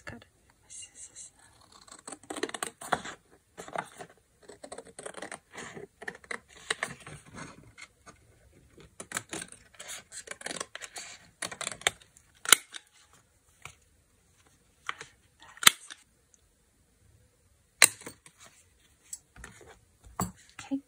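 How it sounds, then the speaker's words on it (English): Scissors snip through paper during a craft project, making a series of crisp, irregular cuts and scratchy rustles up close, with pauses between bursts. "So I can just cut it with my scissors."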